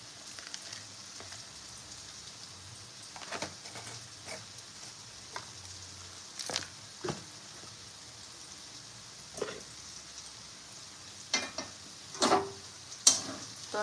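Whole garam masala spices sizzling in hot oil, a soft steady frying hiss with occasional louder pops and stirring clatters, faint and close, no talking.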